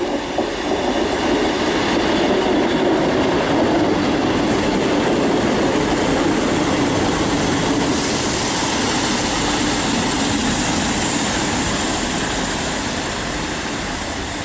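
A Great Western Railway train, unit 158956, pulls into Bath Spa station as a steady, loud rumble of wheels and engine with faint clickety-clack on the rails, sustained throughout with no voices.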